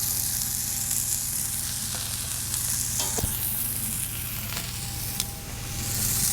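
Bacon sizzles steadily on a plancha set on an SNS kettle grill, a loud constant crackling hiss with a few faint clicks and clinks and no talking.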